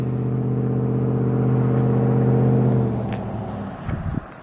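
A small red car's engine runs near a Shenandoah National Park overlook parking area: a steady, close mechanical hum with a smooth tonal drone that holds for about three seconds, then fades and breaks into faint rumbles.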